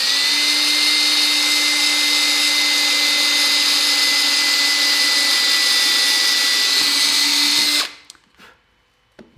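A power drill bores holes in wood to start internal scroll saw cuts, a loud, steady close-up whine running for about eight seconds before cutting off abruptly into near silence.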